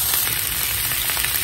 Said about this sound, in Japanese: 揚げ焼きにしてきます